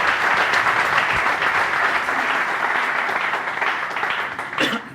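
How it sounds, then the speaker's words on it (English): An audience at a November 2019 talk on causal inference and A/B testing applauds the two presenters with dense, steady clapping that lasts the whole stretch, fading only slightly at the end. "so big applause for the two guys who are presenting."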